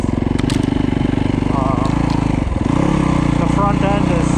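A Yamaha YZ250F or YZ450F dirt bike engine runs steadily while ridden in snow, with a loud, close, rapid four-stroke pulse, and a voice talks over it for most of the stretch.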